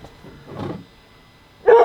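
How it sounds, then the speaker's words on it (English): A dog barks near a Jeep during an oil change, one muffled low bark followed after a pause by a sharper, louder bark at the end. "What would our videos be like without Mo barking?"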